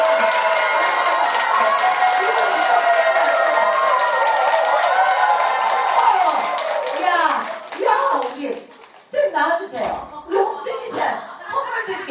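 Elderly audience at a Korean senior recreation session claps loudly and continuously for several seconds, then the clapping breaks up into scattered claps mixed with chatter and a host's voice.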